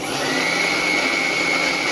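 A kitchen mixer grinder runs at a steady, loud, continuous whir with a high motor whine, grinding jaggery with sesame seeds for festival sweets. No one speaks.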